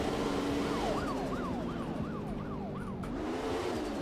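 A police car siren wails in the Roblox game Taxi Boss, a rapidly rising and falling warble repeating steadily over a constant car engine drone, fairly loud and with no talk.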